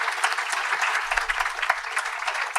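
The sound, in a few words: applause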